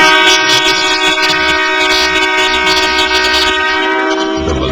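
A historical Malayan Railways train sounds its horn in one long, loud, steady chord close by, with rumbling running noise beneath that fades as the blast ends.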